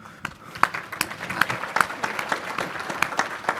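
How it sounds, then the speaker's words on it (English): An audience applauds, the clapping ragged and uneven at first and then growing fuller and steadier over a few seconds. "let's give everyone a round of applause."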